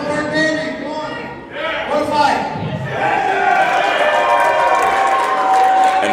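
Wrestling crowd at an independent show in Sedalia cheering and applauding a departing wrestler, a loud dense roar of claps and shouts that builds and swells through the clip, with voices mixed into the noise.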